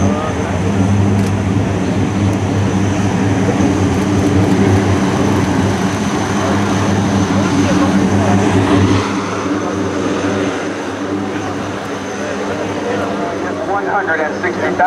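At an airshow, a 160,000-pound tactical airlifter roars loudly with a steady propeller and engine drone as it takes off, then eases slightly as it climbs away, with an announcer's voice over it.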